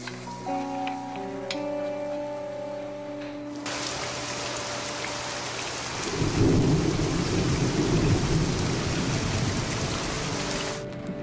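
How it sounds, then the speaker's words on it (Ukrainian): Heavy rain pours steadily with rumbling thunder, the downpour swelling louder midway and staying close and continuous until near the end, with no voices. "Зараз дощ починається, ми намокнемо."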